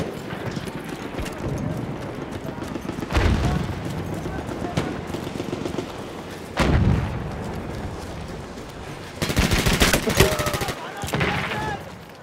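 Battlefield 1 artillery barrage: heavy shells land in several loud, widely spaced booms amid ongoing rifle and machine-gun fire, with bursts of crackling debris and some voices in the mix.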